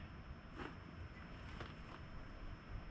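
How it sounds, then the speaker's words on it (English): Steady wind rumbling and buffeting outdoors on a windy day in Virginia, a continuous low roar with faint gusts and no voices. "It's a windy day as always at this part of the year in Virginia."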